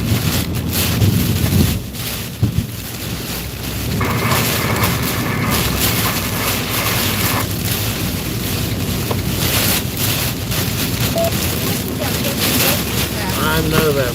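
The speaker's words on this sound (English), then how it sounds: "That's the worst wind I think we've had yet" A strong storm wind in Kentucky roars and buffets continuously against a vehicle for over ten seconds, loud and close, with gusty rushing swells throughout.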